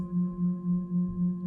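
Large antique singing bowl with a medium thick rim ringing on alone, a steady low hum with a few higher partials and a slow, even throb in loudness.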